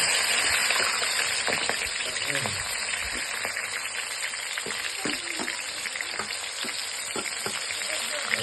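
Onions frying lightly in hot oil for homemade local-style chowmein, a steady close sizzle with occasional soft stirring clicks throughout, no voices.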